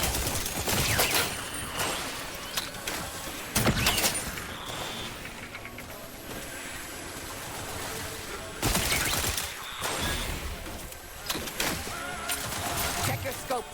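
Bursts of automatic gunfire from The Outer Worlds 2 video game come in loud fusillades separated by quieter stretches of combat noise, with a game voice speaking.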